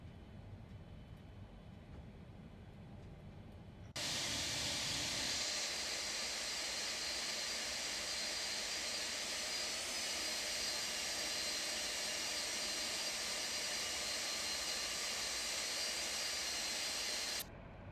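Jet engines of a Boeing 747-200 in X-Plane 12 while the airliner taxis: a low rumble that suddenly becomes a loud, steady broadband roar with a high whine and continues unbroken before cutting out near the end.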